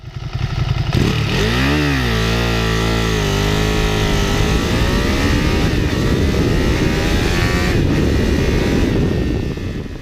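Ducati Panigale V2 with a 90-degree V-twin accelerates hard and loud, its rumble climbing through rising gear pulls into a sustained high-revving roar, with no talk.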